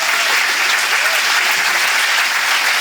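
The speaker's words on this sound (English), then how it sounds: "Another round of applause for them" Steady, dense applause from a dinner audience at a 2021 chamber of commerce annual dinner, loud and continuous throughout with no break.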